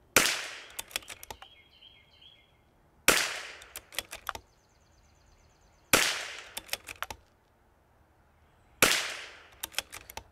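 Four evenly spaced .22LR rifle shots are fired at a long-range target, each a sharp crack followed by echoing reflections. The shots come about three seconds apart, loud and close, with faint birdsong between them.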